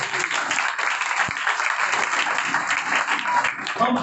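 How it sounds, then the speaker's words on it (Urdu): A church congregation claps for Jesus during a pastor's sermon, a dense burst of applause filling the hall for several seconds, loud and sustained with faint voices mixed in. "اس ہیرو کے لیے تالیاں بجائیں۔"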